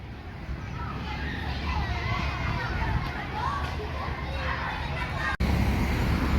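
Many children shouting and chattering at a distance at a school in Georgetown, a continuous playground babble over low background rumble, cut by a brief click near the end.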